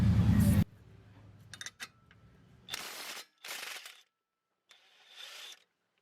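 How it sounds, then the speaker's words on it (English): An 18 mm pinch bolt is worked loose with a ratchet on the front strut of a VW New Beetle, giving a few short bursts of mechanical clicking with quiet gaps between them, close to the microphone. "next we're going to remove this pinch bolt down here. It's an 18 millimeter bolt with an 18 millimeter nut."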